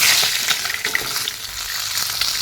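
Fish sizzling as it fries in hot oil in a pan, a steady bright crackle throughout, close and fairly loud with no talking.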